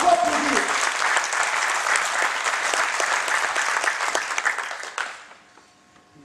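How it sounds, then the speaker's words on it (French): Applause from an audience at a French-language political gathering fills most of the clip, loud and dense, then fades out abruptly near the end. "beaucoup d'autres qui faut applaudir"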